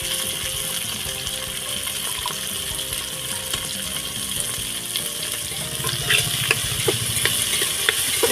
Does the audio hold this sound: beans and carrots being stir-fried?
yes